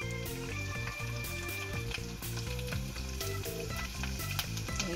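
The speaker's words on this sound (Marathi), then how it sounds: "हे चांगलं लाल होईपर्यंत आपल्याला फ्राय करून घ्यायचं" Garlic, green chili and onion frying in a pan give a continuous hiss of sizzling oil, heard under steady, fairly loud background music with a regular beat.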